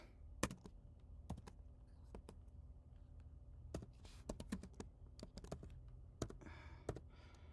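Quiet keystrokes on a computer keyboard come in short, irregular bursts of sharp clicks, close and clear against a faint background hum.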